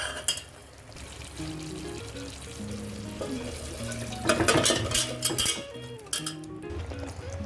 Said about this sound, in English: In this, now add the boiled mutton pieces.